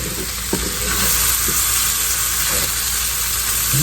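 Potatoes frying in butter in a skillet on high heat, a loud, dense, continuous sizzle with a few brief stirring clicks near the start, close and without talk.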